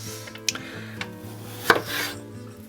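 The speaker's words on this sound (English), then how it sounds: "I'm just going to use a knife and plug my way through that lot" A knife slicing through potatoes on a chopping board, a few sharp isolated cuts and knocks spaced apart over a low steady hum, close and clear.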